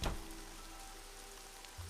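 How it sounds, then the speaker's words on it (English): Rain in the Nancy Drew: Legend of the Crystal Skull computer game, a faint, steady patter of rain on a surface after a brief louder thump at the start. "Alright, I don't want to go out in the rain."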